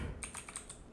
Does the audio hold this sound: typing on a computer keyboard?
yes